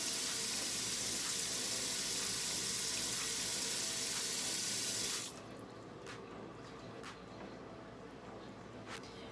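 A bathroom sink tap runs at full flow for about five seconds while a face is rinsed, then shuts off, leaving faint drips and small splashes.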